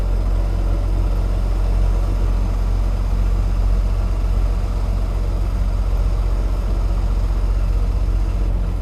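A truck idles in a drop yard while it maneuvers, its engine giving a loud, steady low rumble with a faint mechanical chatter that holds constant throughout, close by with no talk.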